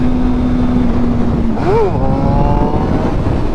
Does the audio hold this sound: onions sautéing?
no